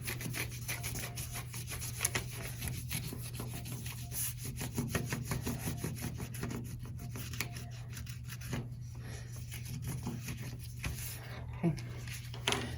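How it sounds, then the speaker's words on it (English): A white crayon rubs over paper laid on leaves, making soft, repeated scratchy strokes close up and faint against a steady low hum. "I'm going to take the white crayon and rub to get the design of the leaves"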